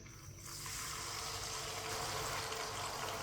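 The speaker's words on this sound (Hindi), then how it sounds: "साथ में आधा कप पानी डालेंगे" Water pours steadily into a pot with sugar for zarda syrup at close range, a continuous splashing gush starting abruptly and holding at even volume with no talking.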